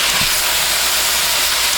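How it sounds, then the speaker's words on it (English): Ground beef for a beef and cheese lasagna fries in a pan, making a loud, steady, close hiss with no talk over it. "So now we're going to cook this until the meat cooks all the way through."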